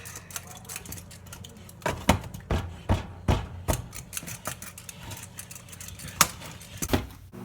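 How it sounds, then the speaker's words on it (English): Brownie batter sweetened with maple syrup gets mixed by hand, a string of sharp clacking knocks and scrapes of a utensil against a bowl in uneven bursts, close up and without talk. "Okay, so we're gonna mix now."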